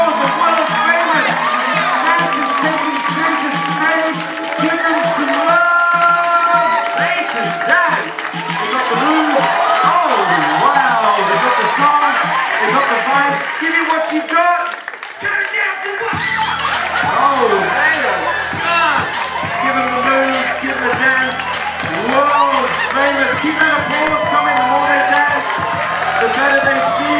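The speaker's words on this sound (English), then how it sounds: "Give him a round of applause for one of the famous!" Audience at a college hypnotist show cheers, whoops and shouts loudly, the crowd noise continuous and close, with voices calling out throughout.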